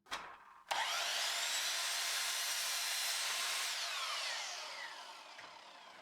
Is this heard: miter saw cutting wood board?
yes